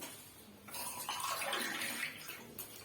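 Water poured over herbs and olive oil in a pot for a homemade cough remedy, a short soft splashing stream that swells and fades within a few seconds.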